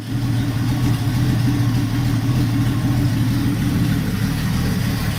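Restored Ford Mustang running with a newly fitted exhaust, a steady low idle rumble holding close and even for several seconds with no voices.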